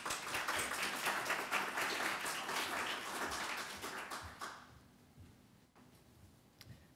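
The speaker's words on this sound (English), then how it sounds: "Let's give our first speaker a round of applause" Lecture audience clapping for the first speaker, a fairly quiet but dense patter of hands lasting about four and a half seconds before fading into room quiet with a couple of small knocks.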